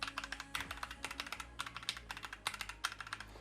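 Rapid, steady typing on a budget mechanical keyboard with brown switches, a 60% or TKL board with a plastic case and sunken deck, gives close, crisp clacks in an even rhythm with no talking.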